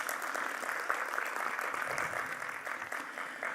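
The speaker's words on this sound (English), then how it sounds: "Yasir with a big round of applause." A seated audience claps steadily in welcome for a company president being introduced at an industry event inauguration, a dense, even round of applause sustained throughout with no voices on top.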